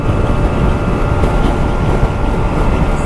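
A 2024 Kymco Skytown 125 scooter rides downhill at full throttle, giving a steady, loud drone of engine and wind noise with no pauses and no talking.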